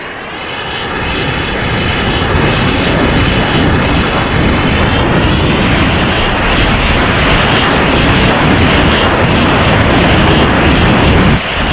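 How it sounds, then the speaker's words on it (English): Two F-4 fighter jets take off, their engines building from a rising roar into a loud, sustained, broadband thunder that holds steady close by. "2 ship, F4s, ready for departure"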